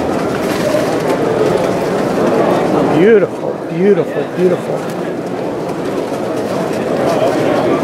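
Pigeons at a Los Angeles pigeon club show, among them white American fantails, coo softly in a busy, crowded room, heard under steady chatter and someone speaking.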